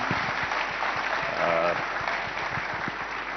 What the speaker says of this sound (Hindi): तालियां जरूर होनी चाहिए क्योंकि हमारे खास मेहमान आमिर खान